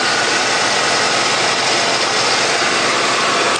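A steady, even car engine idle runs close by, broadband and constant with no revving or changes in pitch, with no ticking or exhaust leaks.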